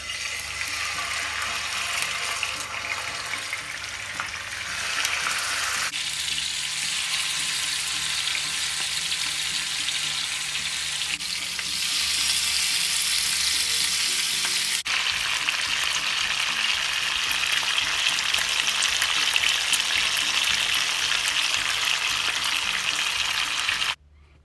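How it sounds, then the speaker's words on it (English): Salmon steaks fry in hot oil in a pan, giving a steady, close hiss and sizzle that keeps on without a break, with small shifts in intensity. "Now I'm gonna pour some oil into my frying pan,"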